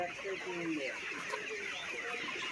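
Farm chickens being loaded into cages, some of them lame and bleeding, cluck and squawk continuously up close while a voice speaks faintly underneath.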